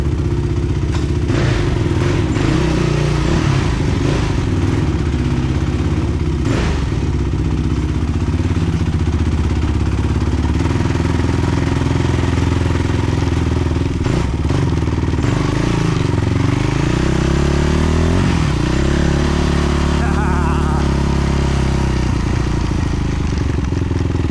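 A Yamaha YFZ450 ATV engine runs steadily after its carburetor was ultrasonically cleaned, a loud continuous idle with clattering texture and slight rises in revs, close by.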